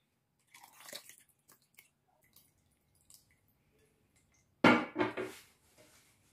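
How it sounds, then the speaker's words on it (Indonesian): Fermented pulp is squeezed slowly by hand to extract lactic acid bacteria serum, giving quiet, sparse wet squelches and drips close by, then one louder burst of squishing and splashing near the end. "Bisa kita peras secara perlahan supaya serum yang dihasilkan lebih banyak."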